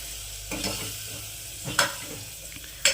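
Rice with onion stirred in a pot at home, heard as a low frying hiss broken by a few distinct scraping strokes of a spoon, close and without talk.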